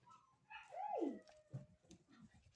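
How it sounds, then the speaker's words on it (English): Puppies play, with a dog giving a rising, whining whimper that slides into a short bark, followed by softer yips and huffs nearby, with no voices. "What is that stinky dog doing?"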